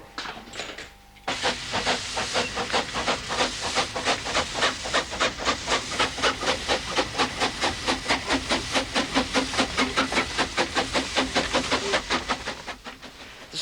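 A steam train on a mountain railway line, its exhaust chuffing in a steady, loud, rhythmic beat under a constant hiss of steam, close by and with no voices.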